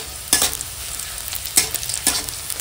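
Onions frying in oil with whole spices, a continuous close crackling sizzle broken by three sharp scraping stirs of a spatula against the pan, with no talking.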